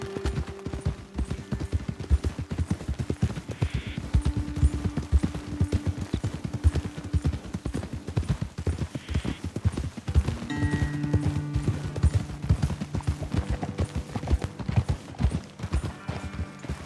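Horse hooves clip-clop in a steady galloping rhythm as riders travel on horseback in Red Dead Redemption 2, the beats continuous and fairly close, with occasional tonal game sounds layered over them.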